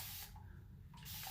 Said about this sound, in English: I am going to take my mister and I'm going to spray this hair.